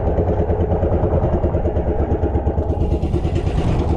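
A steady, chugging boat engine runs nonstop at close range on the open Pacific, a low rumbling drone with a rattling edge and no voices.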